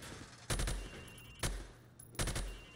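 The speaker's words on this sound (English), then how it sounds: "I want you to shoot the targets through the wood" Three loud bursts of gunfire crack out in Call of Duty Modern Warfare Remastered as a weapon fires through plywood at training targets, each shot sharp and close, with short gaps between them.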